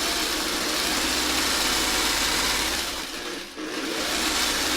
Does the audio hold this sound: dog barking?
no